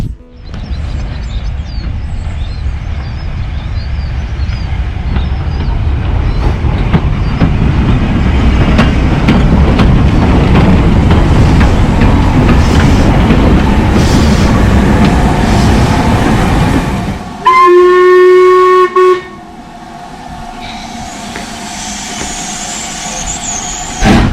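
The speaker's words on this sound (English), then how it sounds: "Seen a Harry Potter train." A loud steam train roars past close by with rumbling and rattling wheels, then a sharp whistle blast sounds as it moves away.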